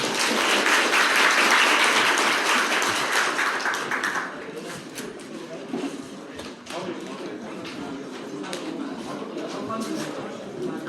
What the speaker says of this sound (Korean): 마지막으로 큰 박수 부탁드립니다